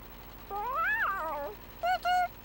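A cat meows in a Bob the Builder video game: one long rising-and-falling meow followed by two short chirpy calls, moderately faint over a low background hum.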